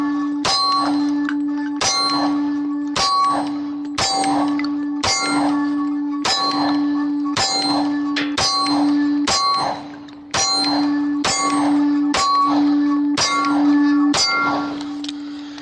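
A TH40 .40 caliber pistol fires a steady string of roughly a dozen shots, each one ringing sharply off a large steel silhouette target with a sustained metallic clang. The evenly spaced, loud impacts come without any talking.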